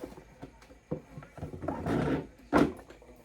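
A drawer opened to take out a makeup palette, with a few soft knocks and then a longer wooden sliding rumble ending in a sharper thud, close and fairly quiet.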